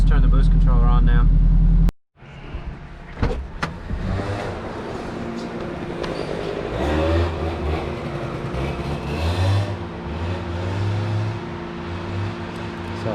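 A turbocharged Acura RSX with a quarter million miles runs on a dyno with its boost controller switched on, a steady loud engine drone climbing through the run after a brief cutout, with people talking over it.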